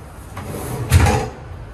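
A drawer slides along its runner and thuds shut, a single short rumbling movement against a quiet room.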